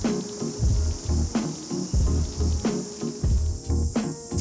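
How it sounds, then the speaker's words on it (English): Cicadas chirr in a steady high buzz on a quiet hilltop in Wellington, New Zealand, with nearby footsteps thudding rhythmically beneath the insect drone. "Just you and the cicadas."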